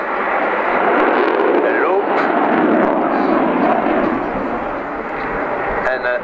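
A French Air Force Dassault Rafale fighter jet flies a barrel roll at an air show, its engine roar loud and continuous throughout, with a crowd or announcer faintly present beneath it.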